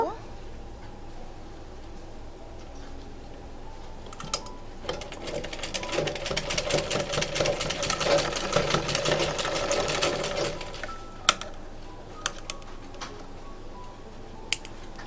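A sewing machine stitching a cloth face mask runs in a rapid, steady mechanical whir that builds through the middle and then stops, with scattered clicks and handling noises around it, close by and without talk.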